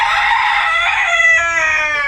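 A White Leghorn chicken crows loudly and up close in a coop, with a long, drawn-out call that shifts pitch partway through, alone with no voices.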